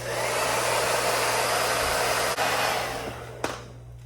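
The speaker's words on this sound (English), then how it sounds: "This is a hair dryer, so obviously it doesn't really have much flames or have any flames at all." A hair dryer blows hot air in a loud, steady roar close by, used to warm tape on BMW 3 Series reflectors, then tapers off near the end with a small click.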